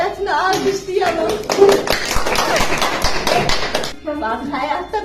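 A group at a truth-or-dare game among volunteers breaks into a burst of hand clapping, dense and close under ongoing talk, fading back to voices near the end.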